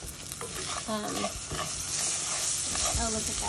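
Rice frying in a pan for Spanish rice sizzles steadily up close, stirred with a few scraping clatters throughout, while a voice speaks briefly over it.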